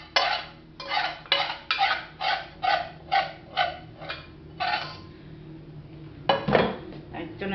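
A spoon scrapes leftover poppy seed filling out of a cooking pot in a run of about a dozen quick, rhythmic scrapes, close and fairly crisp, with a slightly heavier clatter near the end.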